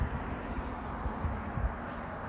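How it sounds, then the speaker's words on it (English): Road traffic near a backyard makes a faint, constant low rumble and wash of noise, steady and distant, with no distinct passing vehicles. "Something you can hear out here that which is going to kind of demote the value of your property is the traffic from the road."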